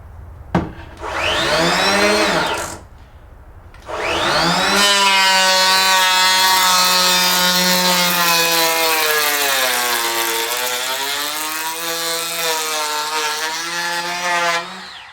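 Bosch GHO12V-08 12V cordless planer making a pass along wood, with a short spin-up, a brief pause, then a long loud sustained whining drone with a shifting pitch, close up.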